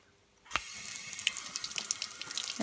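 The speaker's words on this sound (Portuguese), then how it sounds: "Sai água daqui. Tipo uma fonte, sabe?" Water gushes steadily from a public drinking fountain in a small town square, a continuous splashing stream that begins abruptly and runs close and alone, with no talk over it.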